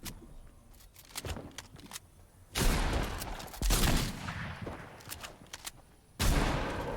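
Gunfire in the Fortnite video game: several sharp, loud bursts of shots stand out against a quieter stretch of scattered shots and game background sound.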